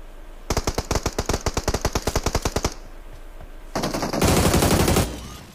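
Automatic gunfire in a mobile shooter game, a rapid string of about twenty evenly spaced shots, then a pause and a louder, denser burst with a blast-like roar near the end, close and loud with no talk.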